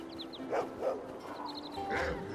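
Small dog yips and barks from the game Neverwinter Nights, a few short clipped calls spaced over game ambience, moderately near, with some faint voice nearby.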